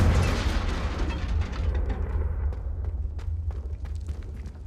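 A Confringo fire spell in the Hogwarts Legacy video game bursts in a heavy, booming blast, with a deep rumble that rolls out and fades over several seconds.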